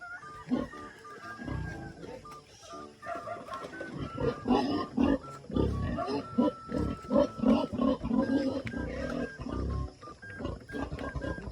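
Busy farmyard animal calls, clucking and squawking chickens mixed with grunting livestock, fairly close and continuous, with some voices underneath.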